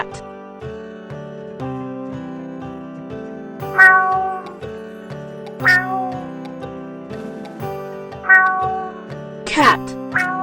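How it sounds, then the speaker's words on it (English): A cat meows several times over steady background music, the calls rising out of the mix at intervals, moderately loud and close. "cat,"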